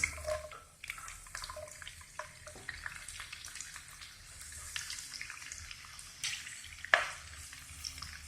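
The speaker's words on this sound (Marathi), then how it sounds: "आता आपण ही शिमला मिरची, लाल भोपळा आणि फ्रेंच बीन्स एकत्र टाकून फ्राय करून घेणार आहोत." Capsicum, red pumpkin and French beans deep frying together in oil for a restaurant-style veg kolhapuri give a soft, steady sizzle with faint stirring clicks and a brief sharper clatter near the end, with no talking.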